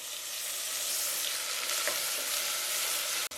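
Tomatoes frying in a pan with onions for a pressure-cooker biryani: a steady, loud, close hiss of sizzling oil throughout, with a faint stir near the end.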